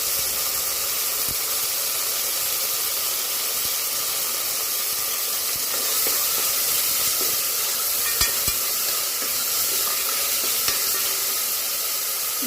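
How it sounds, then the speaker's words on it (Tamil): Onions and tomatoes sauté in a pan for mutton khurma, giving a steady, close sizzle with a few soft stirring scrapes throughout and no voices. "அது பச்சை வாசனை போகிற அளவுக்கு நல்லா வதக்கிக்கலாம்"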